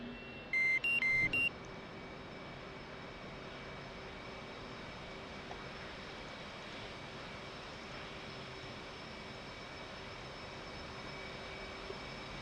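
F/A-18 Hornet jet engines idling in a flight simulator game, a steady low whine and rumble that continues evenly throughout, with a brief cluster of electronic beeps near the start.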